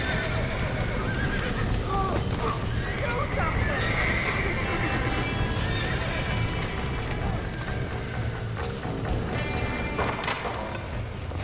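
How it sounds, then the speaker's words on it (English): Horses in Red Dead Redemption neigh and whinny repeatedly amid clip-clopping hooves, crashes and a dense, loud game soundscape with someone talking over it. "Os cavalos estão morrendo aqui sufocados, cara"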